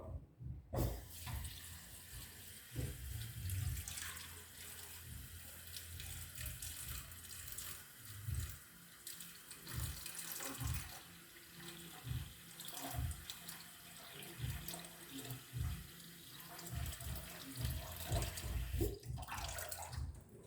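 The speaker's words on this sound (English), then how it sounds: "I'm gonna put some water" Water runs steadily from a tap for about twenty seconds, splashing into a cooking pot with a continuous hiss and gurgle, no voices.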